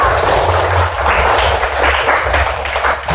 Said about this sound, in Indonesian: Ayo tepuk tangan untuk kelompok membaca